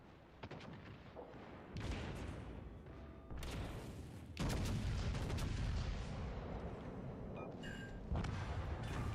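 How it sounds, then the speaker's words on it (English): Warship main guns firing in the naval game World of Warships Legends, a sequence of heavy booming salvos with long rumbling tails, several blasts stacking into a continuous roar, loud and close with no talk. "I fired the front guns a little early"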